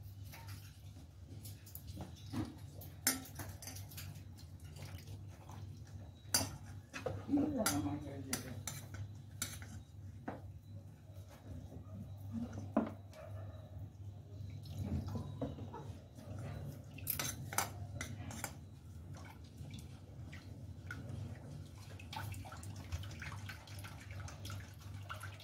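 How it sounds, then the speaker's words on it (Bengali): Water poured into a cabbage curry in a cooking pot and stirred, with faint splashing and scattered clinks of a spoon against the pot over a low background hum. "জল দিয়ে দিব।"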